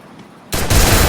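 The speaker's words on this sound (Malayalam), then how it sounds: "അവിടെ അവൻ ചത്ത് കേട്ടോ ഒരു വെടിക്ക് തന്നെ" Gunfire in the battle-royale game Free Fire: quiet at first, then a sudden loud burst of rapid shots that continues as a dense, close rattle to the end.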